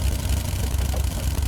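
A motorbike engine in Minecraft idles with a low, steady rumbling drone that stays level and continuous for a brief moment, without any talking.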